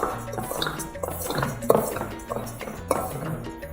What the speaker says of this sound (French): mélanger ça avec une cuillère